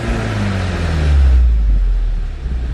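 A VW Golf GTI MK7 engine revs up briefly, its tone climbing and falling back toward idle, close and fairly loud, with no talking.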